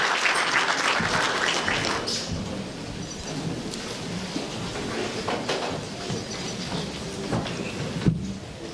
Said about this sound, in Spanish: Un aplauso al doctor David